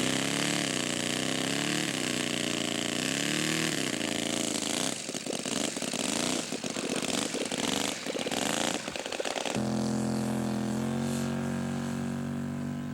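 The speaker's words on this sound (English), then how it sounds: "Fokker D7. Team scale. Nice takeoff, Gary." Scale model Fokker D7 aircraft engine revving hard on takeoff, a loud buzzing whine that rises and wavers in pitch, then settles into a steady high drone as the plane climbs away.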